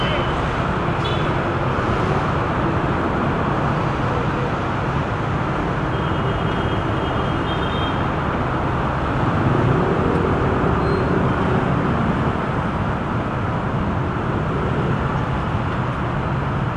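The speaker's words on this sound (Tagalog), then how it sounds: "Talagang build up ang traffic nito mga lods" Heavy build-up of road traffic on a two-way east service road at km 23, a continuous low rumble of engines and tires idling and creeping, with people talking nearby throughout.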